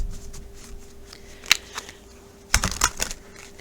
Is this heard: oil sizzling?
no